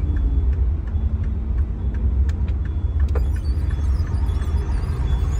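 Heavy traffic jam on a road leading to Jama Masjid in Delhi, with a steady low rumble of idling engines, occasional faint clicks and knocks, and no voices.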